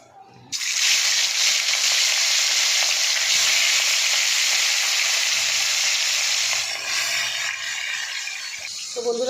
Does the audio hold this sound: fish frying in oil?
yes